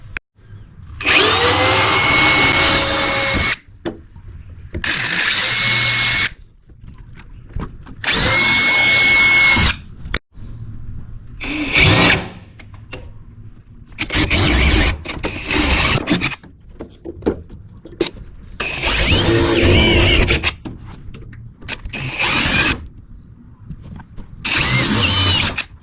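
A power drill whines in repeated bursts while drilling out holes on a Barra-powered C1100 International pickup truck build, close and loud, with short pauses and handling noises between runs.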